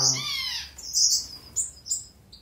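Finches in an aviary chirp and tweet in quick bright bursts, several calls overlapping at close range with a soft background hum.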